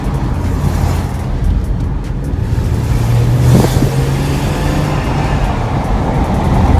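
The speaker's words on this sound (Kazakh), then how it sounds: "Қазір мысалы мынау пешеходканы өтіп кетейін, газ басып көремін." A Mercedes car engine revs as the car accelerates past a pedestrian crossing, a steady loud rumble heard from inside the car with a low droning tone rising slightly, and no talk.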